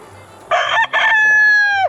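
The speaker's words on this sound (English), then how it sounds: "Okay, so those 2 are roosters. That's a rooster." A rooster crows once, loud and near, a sharp opening burst followed by a long sustained note that trails off.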